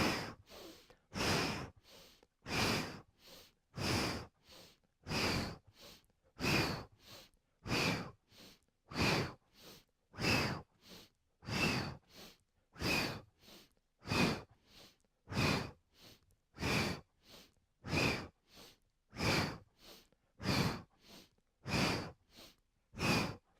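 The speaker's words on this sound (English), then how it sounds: "inhale through your nose and then exhale with an O shape out of your mouth" Slow, steady yoga breathing, each breath drawn in through the nose and released out through rounded lips, repeating about every second and a half, close and clear with no talking.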